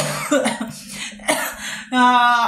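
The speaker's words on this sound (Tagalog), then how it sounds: "umuulan kaya inuubo ako" A person coughs a few times in quick bursts, close to the mic, followed by a voiced throat sound.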